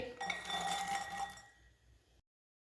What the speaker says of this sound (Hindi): अखरोट की गिरियों को ना चट्टू में डालेंगे